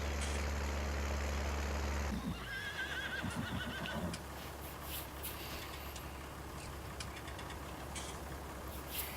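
Horse neighing in Farming Simulator 19, a clear whinny around the two-second mark after a low engine drone cuts off, followed by soft hoof clops and faint ambient sound.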